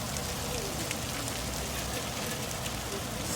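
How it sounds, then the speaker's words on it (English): Hail falling during a hot heat wave, melting on contact with the ground, makes a steady dense patter with a broad hiss, even and continuous throughout with no pauses. "you can hear that it's hail"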